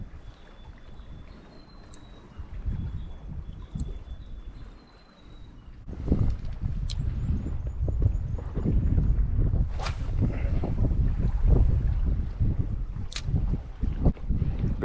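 Wind gusting across a shoreline during land-based squid fishing in Northland, New Zealand, a steady low roar buffeting the microphone that strengthens midway, with occasional faint high tones over it.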